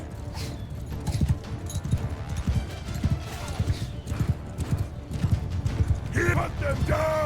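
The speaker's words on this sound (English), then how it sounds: "Oh, there's a horse." Horse hooves pounding in a Mount & Blade II Bannerlord battle, a steady rapid clip-clop of galloping under battle din, with a brief higher whinny-like cry near the end.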